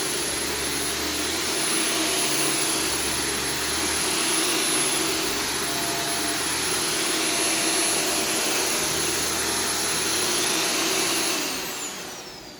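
A Shark Stratos vacuum cleaner running on low pile living room carpet, a loud, steady high-pitched whine and roar close by that holds constant before trailing off at the end.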